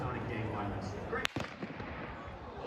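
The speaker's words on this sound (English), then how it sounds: "you hear a shot, you hear the crack of a shot" One sharp gunshot crack cuts through a recording made at an outdoor event, a brief loud snap over a murmuring background with voices before and after.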